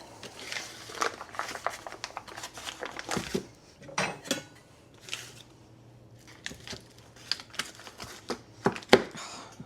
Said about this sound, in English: Why is it so difficult to cut butter?